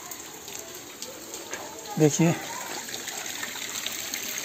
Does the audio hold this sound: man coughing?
no